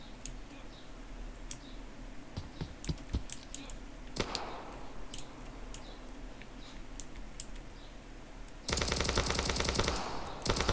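Gunfire in the Roblox game, a soldier-style shooter using a scoped rifle: scattered sharp clicky shots give way to a dense burst of rapid fire near the end, fairly quiet overall with no talking.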